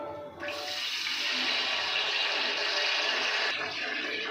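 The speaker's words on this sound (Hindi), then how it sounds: "तो इसमें सिर्फ थोड़ा सा मैं इसमें पानी ऐड करूँगी ताकि हमारी शुगर जो है वो नीचे लग ना जाए" Water pours steadily into sugar in a cooking pot while sweet zarda rice is being made, a close, continuous splashing rush lasting a few seconds before stopping abruptly.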